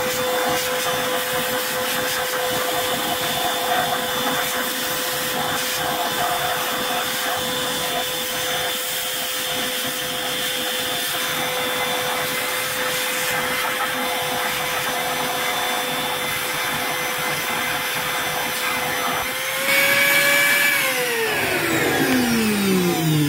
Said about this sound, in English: So we're gonna vacuum that out.